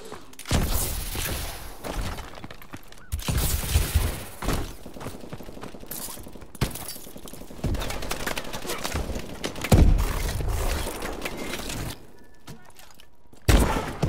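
Bursts of gunfire from Call of Duty: Advanced Warfare aimed at an enemy UAV, several loud clattering volleys separated by short pauses, with a voice speaking between them.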